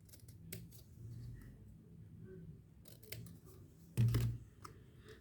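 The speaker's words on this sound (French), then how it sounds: "J'ai oublié de couper un bout là." Paper being snipped with scissors while cutting pieces for a 3D paper puzzle, a few soft, close cuts over quiet room noise, with one louder snip near the end.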